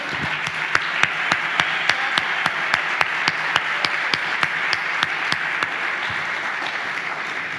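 A church congregation applauds during a Spanish-language sermon, a steady wash of crowd applause with sharp rhythmic unison claps cutting through it at a regular beat, fairly loud and close.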